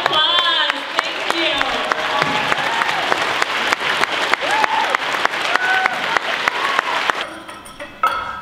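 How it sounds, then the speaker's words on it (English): An audience at a talk on loneliness, anxiety, depression and suicide gives a sustained round of applause, dense clapping filling the room with some cheering voices mixed in, tapering near the end. "So give them one more round of applause."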